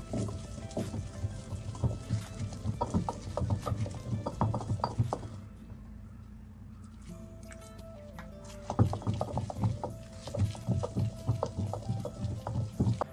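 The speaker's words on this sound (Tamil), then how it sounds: "நான் உரல் இருக்கனால உரலில் அரைக்கிறேன்." Groundnut chutney being ground by hand in a traditional stone mortar, with repeated pounding and grinding knocks in bursts. A quieter pause falls in the middle before the rhythmic thuds return.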